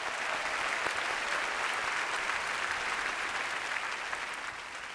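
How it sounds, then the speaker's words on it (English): Round of applause from a large keynote audience at a tech conference after a smart eyewear demo, dense continuous clapping that holds steady and tapers slightly at the end. "Round of applause for Nishta."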